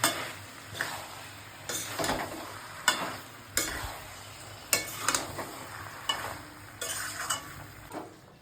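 Chickpeas for ghugni are stirred and fried in a spice masala in a pan, with a steady sizzle under repeated scraping and clinking of a spoon against the pan, close up.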